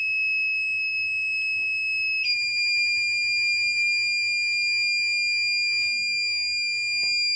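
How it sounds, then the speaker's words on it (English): A continuous high-pitched electronic buzzer alarm from an Arduino-based transformer temperature monitor sounds steadily throughout, shifting pitch slightly partway, with no talk over it. "After that, the buzzer will be automatically off."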